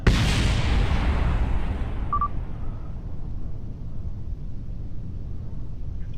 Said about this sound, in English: Ooh, all the explosions.